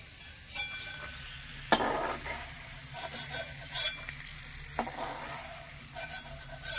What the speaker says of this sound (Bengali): হালকা আছে বাদামটা মুচমুচে করে ভেজে নিয়েছি। এবারে তুলে নেব তেল থেকে।